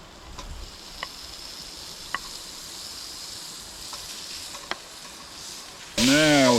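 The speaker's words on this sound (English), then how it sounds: "Now we just need to throw it right back in the pot." Chopped pieces tumble into a Dutch oven at a winter truck campsite, with a steady sizzle and a few scattered soft clicks, ending in a sudden louder rush of noise.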